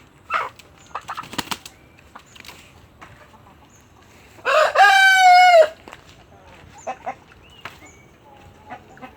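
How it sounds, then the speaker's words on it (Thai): A fighting rooster (gamecock) lets out one loud, close crow lasting about a second, amid scattered clucks, rustling and knocks before and after. "ไก่ชน"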